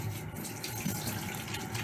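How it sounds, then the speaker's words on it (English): Tap water runs steadily into a sink for hand washing, a continuous close splashing hiss with no talk over it. "So we're going to wash our hands."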